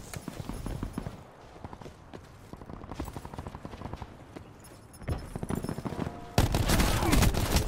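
Rapid bursts of gunfire in a gun-game round of a first-person shooter, sharp repeated shots crackling through the whole stretch with a louder, denser volley at the end, mixed with game effects and faint voice chatter.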